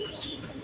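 Almond-coloured pigeons, sold among fancy breeds such as gola and giribaz, give soft low cooing close by under steady background noise.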